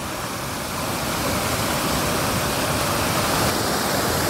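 Fast-flowing river water in Konkan rushes as a loud, broad, continuous roar that grows slightly stronger after the first second, with no talking.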